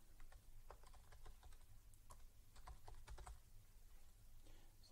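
Quick, irregular bursts of computer-keyboard keystrokes as a database file name is typed, light clicks close by over a low steady hum, with no talking.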